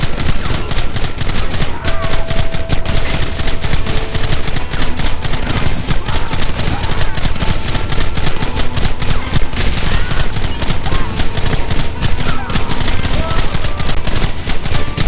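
Dense, relentless gunfire from many weapons crackles in a firefight in the video game Red Dead Redemption, loud and continuous throughout with faint game sounds underneath.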